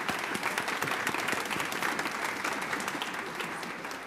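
Steady, dense applause from a school band concert audience during senior recognition, a continuous close wash of clapping that holds throughout and eases slightly toward the end.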